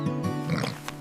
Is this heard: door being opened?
no